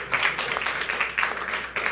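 Audience clapping at an evening tech networking event, a short burst of applause with a few rhythmic swells, fairly close and lively, under a little background chatter.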